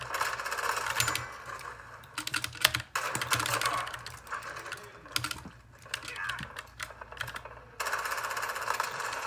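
Computer keyboard keys clatter in quick irregular bursts during gaming, close and fairly quiet, with a low background hum and a person talking now and then between the keystrokes.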